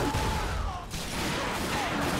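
Dense, loud bursts of shotgun fire in The Darkness 2 video game, blasts running together with a brief dip partway through.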